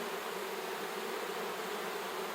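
Honey bees swarm around an opened hive, a dense, steady buzzing hum that fills the air without a break and with no talking.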